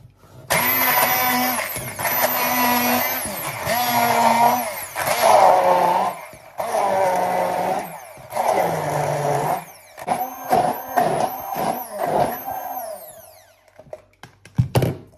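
Electric blender finely chopping onion for chebureks, a loud whining motor in several long bursts that grow shorter and choppier, with brief pauses between runs.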